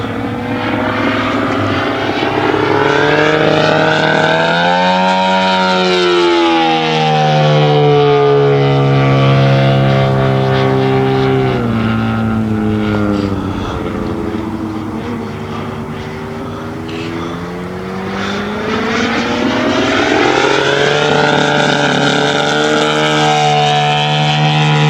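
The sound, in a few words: giant scale RC F8F Bearcat model plane engine in flight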